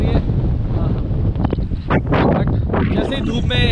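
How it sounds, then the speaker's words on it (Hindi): Strong wind gusts across the open deck of a 366 m container ship at sea, loud and buffeting against the microphone, while someone talks over the roar. "ये देखिए मस्त हवा चल रही है।"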